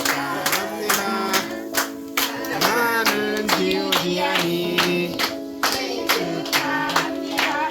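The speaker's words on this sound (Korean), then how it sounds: "박수 치고 시작" Steady rhythmic hand clapping from a group of people at a birthday gathering, loud and close, repeating in even beats for several seconds with sung or spoken voices underneath.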